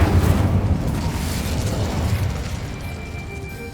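An Incendio fire spell goes off in Hogwarts Legacy, a loud rumbling fiery burst that starts at full force and then roars on before slowly fading, with no talk over it.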